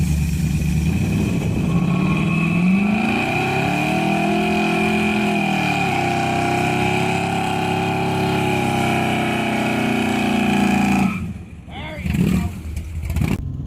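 A 1970s street machine van's engine drones at high revs during a burnout for several seconds, pitch dipping and rising, then cuts off abruptly into quieter rumbling.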